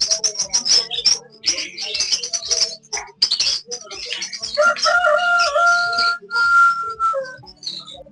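Birds at an outdoor bird market in Peshawar chirp, tweet and whistle in quick, overlapping bursts close by, with some sustained whistled notes and faint voices in the background.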